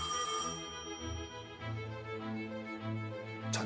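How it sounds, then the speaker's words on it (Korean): A telephone rings with an incoming call at the Korean Language Society office in 1945, a sustained bell-like tone with ringing harmonics that runs continuously with no voices. "한 통의 전화가 걸려옵니다."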